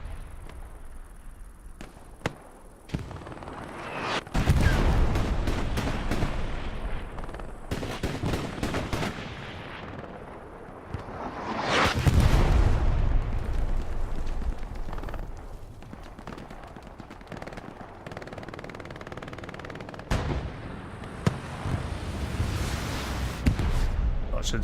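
Grenade blasts and artillery fire in the Hell Let Loose war game at Kursk, with a loud frag explosion near the middle among repeated gunshots and booms, while a caster talks over the battle.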